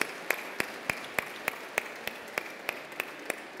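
Faint, steady rhythmic clapping at an awards ceremony for the Golden Blog Awards 2015, sharp claps spaced evenly in time as the audience claps together, with nothing else over it.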